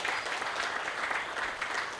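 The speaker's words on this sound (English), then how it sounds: "A round of applause for the director of the institute." Steady applause from an audience at an annual meeting's opening, honoring the institute director, a dense continuous clapping wash that holds evenly throughout.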